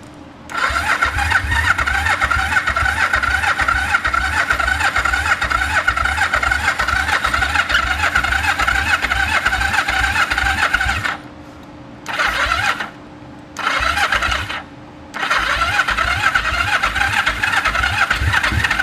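A TX500 motorcycle that sat in a barn for 20 years cranks over and over with a steady, loud starter churn, pausing briefly a few times before resuming.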